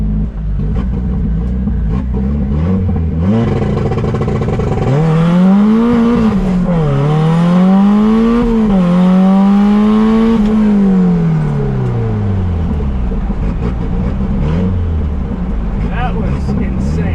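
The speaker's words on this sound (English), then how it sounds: "gonna try the launch control turboed for the first time" A turbocharged K-swapped Toyota MR-2 Spyder holds at the launch-control limiter with a loud, buzzing, stuttering idle, then launches hard, its engine rising through several steep gear pulls before fading, with a voice talking over it.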